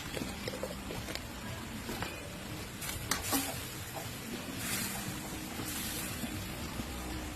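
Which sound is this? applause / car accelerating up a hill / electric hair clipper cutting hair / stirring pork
stirring pork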